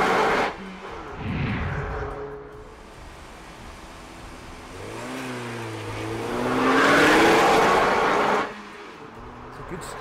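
A race car on a hot lap at a motorsport stage event, engine revving and shifting with a rising surge that swells loud near the end before cutting off, with faint voices in the background.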